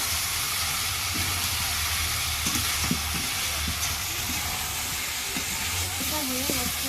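Meat being sautéed in a pan for a village-style curry, with potatoes already boiled, gives a steady, loud, broadband sizzle with occasional stirring scrapes, close and continuous throughout.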